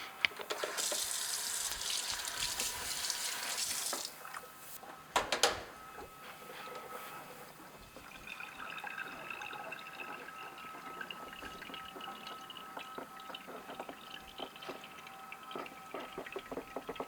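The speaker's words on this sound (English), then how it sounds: "Oh, hot water." Hot water runs from a tap in a home workshop, a loud steady hissing gush for about four seconds, then a short splash, followed by fainter running water and a softer background hum.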